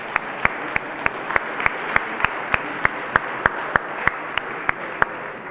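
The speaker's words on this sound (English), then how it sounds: "Let's give everybody a round of applause, please" An audience at a Smart Communities event in the HP Fieldhouse gives a round of applause, a steady wash of many hands with a few louder individual claps standing out at a regular pace, moderately distant and without talk.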